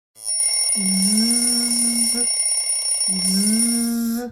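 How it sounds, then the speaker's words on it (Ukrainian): An alarm clock rings in a children's lesson about waking a teddy bear: a steady, bright electronic ringing lasts about four seconds, with a lower warbling tone that drops out briefly midway and then returns. "Ось як дзвонить годинник."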